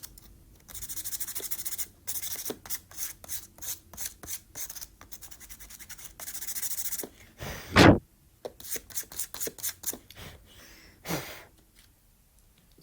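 Sandpaper smoothing air dry clay decorations by hand: a series of short, dry scraping strokes in an uneven back-and-forth rhythm, close and fairly quiet, with one louder scrape partway through and no speech.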